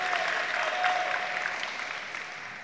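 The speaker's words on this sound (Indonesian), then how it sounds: "Tepuk tangan dulu dong." Audience applause at a Muay Thai press conference in Indonesia, a dense steady wash of clapping that gradually fades, with a faint tone running beneath it.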